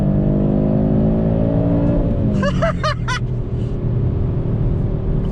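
An Audi RS3 Sedan with its 2.5 TFSI engine accelerates hard at half throttle, heard from inside the cabin as a loud, steady, rising engine drone. A few brief chirping whines break through partway, with no talking.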